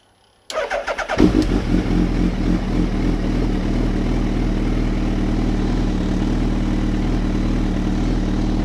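A Suzuki Hayabusa motorcycle engine cranks with a quick rattling starter burst, then catches and settles into a steady, close, loud idle that runs on evenly.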